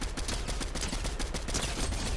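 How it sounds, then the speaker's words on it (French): Rapid bursts of automatic gunfire in the video game Fortnite, Chapter 4 Season 3, a dense loud rattle of shots continuing throughout with no pauses. "Oh bah ouais, attends, ça nous tire dessus."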